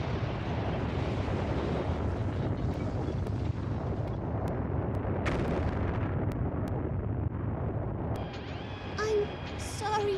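A video game boss fires exploding rockets in its third phase, making a dense, continuous roar of blasts and bursts with some sharp, bright pops near the end.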